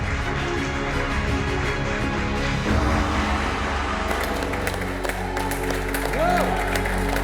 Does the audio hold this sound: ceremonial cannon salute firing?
no